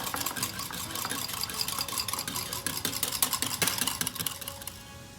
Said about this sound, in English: Whisk it nicely. Until the sugar dissolves.